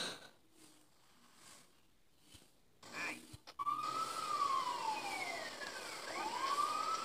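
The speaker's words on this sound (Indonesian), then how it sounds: "Ambulan datang." Ambulance siren in the PS1 game Grand Theft Auto 2, rising in as a loud wailing sweep after a few seconds of quieter game noise and brief impacts, cycling up and down.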